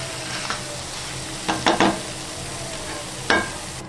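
Crab curry with spices frying in a pan, a continuous sizzle broken by a few sharp scraping stirs of the spoon, close and fairly loud, no voices.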